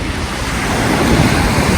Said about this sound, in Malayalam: നല്ല ചെറിയ ചെറിയ തിരമാലകളാണ് ഇവിടെ ഉള്ളത്.